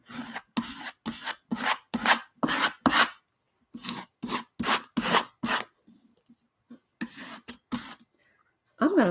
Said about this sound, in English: I did the scraping